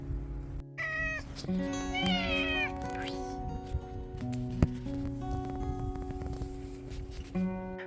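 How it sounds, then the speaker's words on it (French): A cat meows repeatedly in short, rising and falling cries, with a few harsher caterwauling calls mixed in, close and fairly loud over faint rustling background; any hissing is not distinct. "Ma lecture a été perturbée car Harry a aperçu un autre chat au loin et a commencé à miauler et à cracher comme un fou, ce petit coquin."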